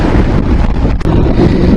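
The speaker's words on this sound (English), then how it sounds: "It's mighty windy." Strong wind buffeting the microphone in an open Texas field, a loud, continuous low rumble with a brief dip near the middle and no talking.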